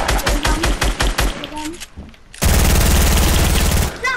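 Submachine gun fire from an online shooter video game: rapid bursts of automatic shots in the first two seconds, then a sustained, loud continuous burst of rapid fire from about 2.4 seconds, with brief speech mixed in.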